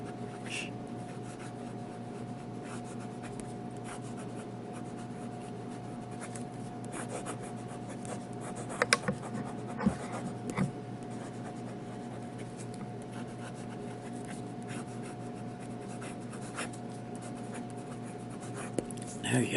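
Jinhao fountain pens with assorted nibs scratching across paper, a faint continuous rasp with a few louder taps, over low steady background hum and occasional quiet talk.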